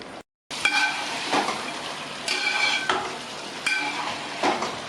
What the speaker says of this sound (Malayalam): ഇത് നന്നായിട്ടൊന്ന് ഇളക്കി യോജിപ്പിക്കാം.